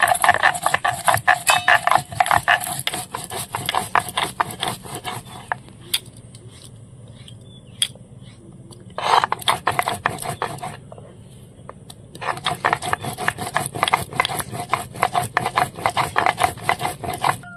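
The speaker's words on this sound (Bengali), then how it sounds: "এবার জিরে আর গোলমরিচ বেটে নেব।" Cumin and black pepper ground into a paste on a stone slab, a close, steady rhythmic scraping and rubbing that runs in loud bursts with brief pauses between strokes.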